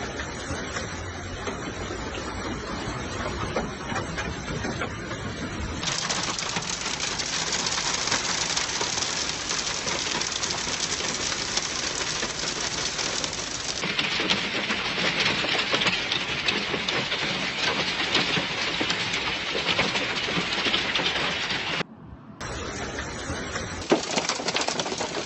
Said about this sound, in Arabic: هذا برد ترى